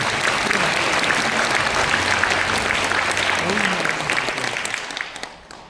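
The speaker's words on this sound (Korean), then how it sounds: "여러분 박수를 보내주시기 바라겠습니다" Audience at a music talk concert in a Won Buddhist hall applauding honored guests, a sustained wash of clapping under a faint background voice, steady before fading away near the end.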